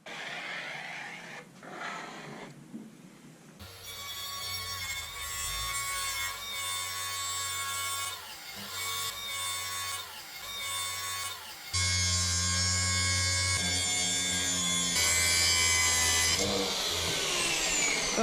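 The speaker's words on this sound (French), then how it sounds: "là pour ce soir, on va découper" Wood being cut for a simple DIY car camping box, with steady sawing and rasping strokes running close and loud throughout, growing more intense in the second half, with no talk.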